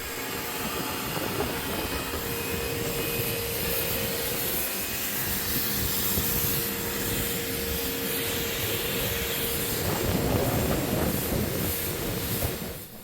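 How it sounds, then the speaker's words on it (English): A pressure washer sprays down a sailboat coated in Sahara sand, a loud, steady hiss and motor drone running continuously with no voices. "a pressure wash was the best way to deal with that"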